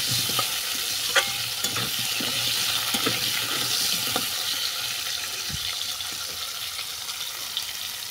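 Lightly fried vegetables for a fish broth with turnip sizzle steadily in a pan while a spoon stirs them, making soft scraping knocks and occasional clinks over the constant frying hiss.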